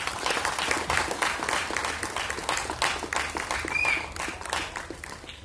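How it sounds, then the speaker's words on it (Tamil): Audience applause at a film trailer launch event welcoming the cast and crew, dense steady clapping from a sizable crowd with a brief whistle partway through. "கைத்தட்டி வரவேற்கலாம்"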